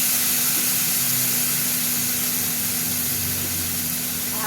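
Ginger-garlic paste and chilli powder frying in a pan after a splash of water, giving a steady, loud broadband hiss and steam sizzle that holds throughout, with a faint low hum beneath.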